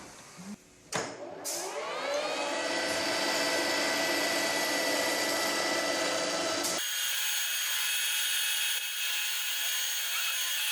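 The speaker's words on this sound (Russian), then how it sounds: "Затем расточник сбивает лишнюю сварку с поверхности головки." A boring machine knocks excess weld off the face of a sand-damaged Suzuki DF100-140A 2.0 outboard motor cylinder head set on a sine plate, spinning up into a loud, steady, whining cut that shifts tone abruptly near the end.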